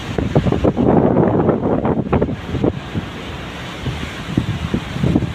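Large swells of the South Atlantic, running about three meters, heard from a ship as buffeting wind and rushing water. Heavy surges rise and fall in loud gusts, with a quieter stretch between them.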